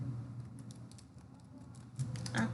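Soft, quiet clicking of computer keyboard keys in short irregular bursts, faint and close, with a few louder taps near the end.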